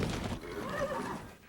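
Horse neighs in a loud, drawn-out whinny for a TV commercial, rising and falling over about a second with broadband noise around it.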